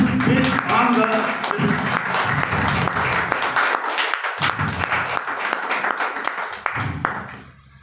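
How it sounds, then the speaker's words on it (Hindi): An audience claps to welcome Mr. Jitendra at a health talk event, sustained applause throughout, with a voice speaking over the clapping for much of the clip. "जोरदार तालियों से स्वागत किया जाए उस ग्रेट पर्सनालिटी के लिए"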